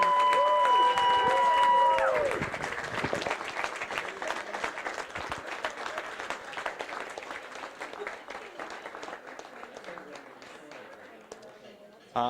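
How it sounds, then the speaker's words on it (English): A crowd applauds students of a food and wine cooking class in Joliet, Illinois, with dense clapping that starts after a brief tonal sound and slowly thins and fades over about ten seconds, with voices mixed in. "So give them a big round of applause"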